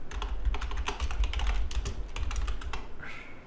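Rapid clicks of a computer keyboard as a command is typed, a quick irregular burst of keystrokes close by, ending with a brief pause and a final sound.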